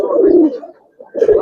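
Giribaz pigeons coo on a pigeon farm, a few low rounded coos up close, with a brief pause between two bursts.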